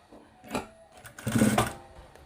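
Sewing machine stitching a strip of piping fabric onto a dress sleeve, running in two short bursts, the second longer and louder, close by with no talk.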